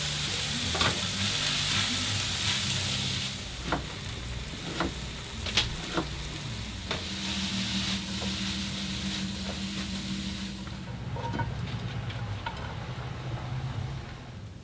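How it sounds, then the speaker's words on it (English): Reheated meat with a splash of juice sizzles steadily in a pan, a dense close crackle broken by occasional scrapes and clicks as it is stirred. "We've reheated our meat, we've added a little juice, it's nice and moist and ready to go."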